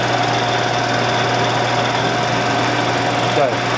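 A Shopsmith lathe motor running steadily at speed D, a loud constant droning hum with a strong low tone and even vibration, with speech over it.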